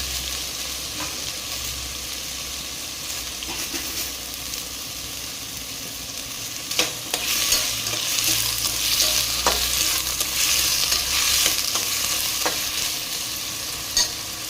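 Potatoes fry and are stirred in a pan for aloo fry, a steady sizzle with occasional scraping clicks from the spatula that intensify midway, continuing throughout with no talking.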